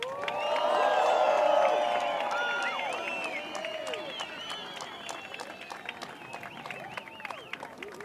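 A surf contest crowd in Portugal cheers, whoops and applauds the men's runner-up Italo Ferreira, a loud swell of clapping and shouts that peaks early then settles into sustained, slightly fainter applause with scattered whistles.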